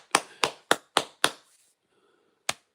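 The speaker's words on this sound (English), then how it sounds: "the clapping seal, all right." Clapping seal sound effect: five crisp, evenly spaced claps in quick succession, a short pause with a faint murmur, then one final clap, all close and dry.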